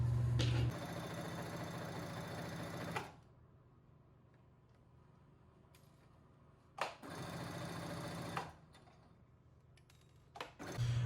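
Sewing machine stitching an outfit, two loud close bursts of fast whirring separated by a quiet pause, each starting and stopping abruptly.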